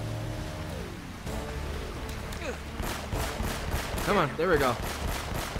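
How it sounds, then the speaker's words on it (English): Rapid gunfire from a weapon in Uncharted: Drake's Fortune, a burst of repeated shots layered over game music and effects, with someone talking over it. "Let's just shoot forward"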